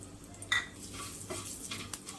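Mustard seeds and asafoetida fry in a couple of spoons of oil for a yam stir-fry, a faint, close sizzle with light spoon scrapes and small clicks against the pan, no voices.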